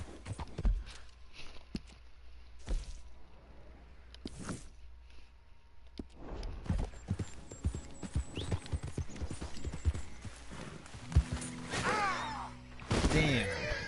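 Horse hooves clip-clop in Red Dead Redemption 2, starting as sparse steps and building into a quicker, denser galloping rhythm, with rustling and a few sharper sounds layered over it.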